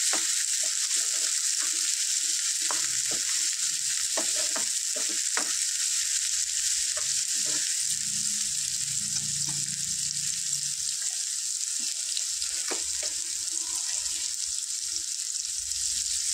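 Onions and green chilies fry in a pan with a steady, loud sizzle. Scattered stirring clicks and scrapes sound close by throughout, with no talk over them.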